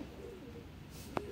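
A soft, low coo of Shahjahanpuri pigeons rising and falling, faint against a quiet background, with a brief sharp tap near the end.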